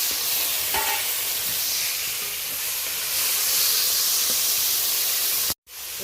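Slit green chillies, tomato and onion hitting hot oil tempered with nigella seeds, producing a loud, close, hissing sizzle that runs steadily, then cuts off abruptly near the end before resuming.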